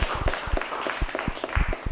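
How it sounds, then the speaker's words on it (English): An audience at a dance and fitness workshop claps and applauds with brisk, uneven hand claps for a short burst. "give her a big hand clap"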